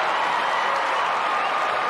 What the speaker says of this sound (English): Big cheer for Paddy.